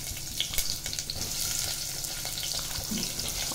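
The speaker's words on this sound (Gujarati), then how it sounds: "હિંગ થાય એટલે આપણે તેમાં ભરેલા રીંગણા નાખીશું." Stuffed brinjals go into hot oil with asafoetida for a Kathiyawadi potato-brinjal sabji, frying with a dense, continuous sizzle and light crackles close by.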